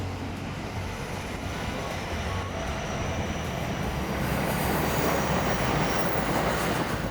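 A passing train on the tracks in Onomichi, Japan, a loud continuous rolling rumble with wheel noise that holds steady and swells slightly toward the end.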